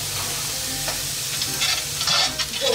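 Cabbage frying in a pan as filling for homemade pirozhki, a steady broadband sizzle with soft stirring scrapes, close and continuous with no talking.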